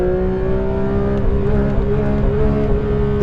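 A Porsche GT4 RS engine revs hard on a circuit, heard from inside the car as a loud, continuous, slightly rising mechanical drone with no talk.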